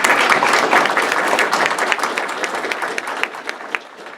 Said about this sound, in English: I think that we should have a round of applause for Andy Schrader and D.J.